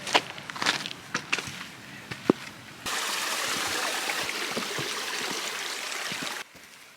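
A rushing mountain stream flows beneath a trail bridge near Laguna de los Tres below Mount Fitzroy in Argentina, with a few footsteps and light scuffs first, then a loud steady wash of water that cuts off abruptly.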